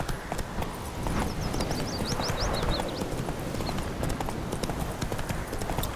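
Horse hooves clip-clopping in The Witcher 3, a steady rhythmic trot of close, crisp hoofbeats over ambient game sound with a faint birdsong trill in the middle.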